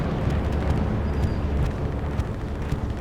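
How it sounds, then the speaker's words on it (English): Bombing-run explosions in Hell Let Loose on the Purple Heart Lane map, a dense, rumbling barrage of deep booms rolling continuously with no gaps. "It's got to be a PKA bombing run in the northwest corner of the cap sector"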